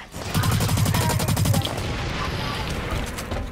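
Rapid bursts of automatic gunfire in a shooter video game, a dense fusillade for about a second and a half that then trails into a sustained rumbling wash of game sound.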